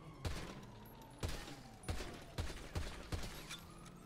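Six gunshots in GTA 5 Online ring out in an irregular sequence, fired at an armored car, each a sharp crack with a brief echoing tail, fairly quiet overall.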